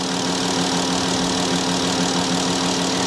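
A 2018 Ford F150 pickup's 3.6 engine idles steadily with a low, constant rumble and hum, close up and uninterrupted, with no voices.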